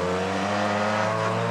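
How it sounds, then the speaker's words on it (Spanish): A rally car rushes past on a special stage of the Quilmaná rally at Cerro Azul, its engine a loud, steady harmonic roar held at high revs throughout, close by with no voices. "Cuando viene otro coche más"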